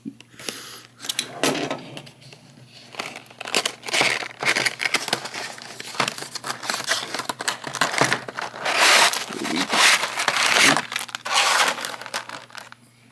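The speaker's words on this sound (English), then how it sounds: "Let's get this open. Yeah, the tape pads are so tight, it's hard to find the opening." Tape-sealed packaging being torn and pried open on an S.H. Figuarts Deadpool action figure box from Deadpool & Wolverine, with continuous close crinkling, crunching and ripping of cardboard and tape, no talk.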